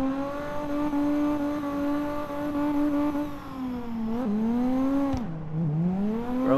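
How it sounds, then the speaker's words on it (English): In CarX Drift Racing, a BMW E36 drift build drones with a strong, steady engine tone that sags and then jumps with sharp throttle changes near the end, with a hint of tire squeal under it. "Car's definitely slipping around on me."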